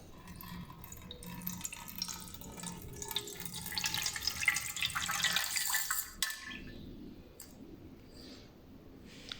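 Water pours and trickles through a filter into a container, separating out solid particles; a steady splashing flow that fades to faint drips near the end.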